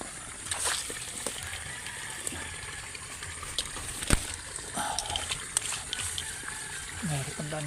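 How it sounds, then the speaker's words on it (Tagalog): Strong floodwater pouring out of a cornfield: a steady broadband rush and slosh of fast-moving water with scattered splashes and knocks, fairly close, continuous throughout. "Ang lakas ng baha dito. Galing ito sa maisan ko."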